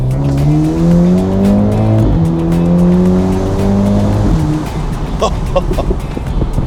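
A Mercedes-Benz convertible's engine, top down, revs up strongly in two rising pulls, each ending as the gear shifts, then settles into a rough idle up close.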